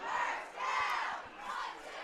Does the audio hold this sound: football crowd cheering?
yes